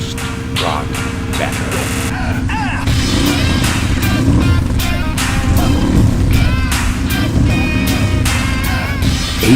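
A 1000cc turbocharged off-road engine fitted with an HMF exhaust revs loudly and steadily near 8,000 RPM, a dense continuous roar with sharp shifts and bursts throughout.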